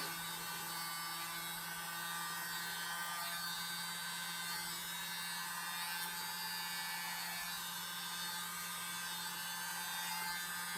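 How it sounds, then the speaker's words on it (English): A small handheld blower runs at a steady, even whir throughout, blowing debris out with a constant airy hiss and no pauses or speech. "Let's use my little blower here."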